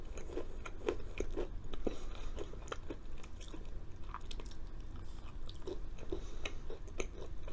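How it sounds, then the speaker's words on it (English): Close-up bites and chewing of a crunchy, chewy vegan chocolate chip cookie, with repeated crisp crunches in an irregular rhythm, fairly quiet and with no talking. "It's sort of crunchy and chewy."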